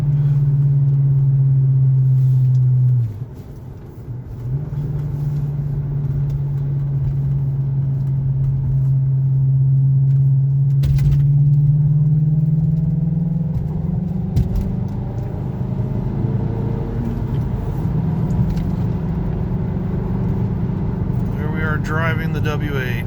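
Engine of a 2003 VW Passat W8 4Motion while driving, a steady low drone that drops as the car shifts early on, then a smooth continuous run with a changing pitch, heard from inside the car with a person speaking.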